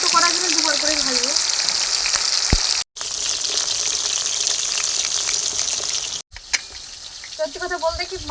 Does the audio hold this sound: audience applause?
no